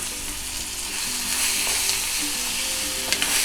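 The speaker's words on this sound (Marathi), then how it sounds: "आता याच्यामध्ये आपण तेल घालायचं कांदा चांगला परतून घेण्यासाठी चांगलं दोन चमचे तेल घालायचं" Onion frying in oil in a pan for a simple Konkan-style onion bhaji, a dense, continuous close sizzle with a few faint stirring scrapes near the end.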